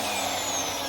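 A drill bores into a shofar horn with a steady, close, continuous whirring grind that holds at an even loudness throughout.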